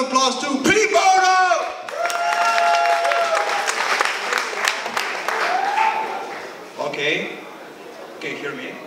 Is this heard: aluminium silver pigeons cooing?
no